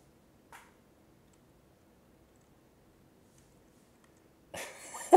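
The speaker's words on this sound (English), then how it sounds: "I can't laugh because it makes me cough more." A single short cough early on, then quiet until a burst of louder, breathy noise near the end.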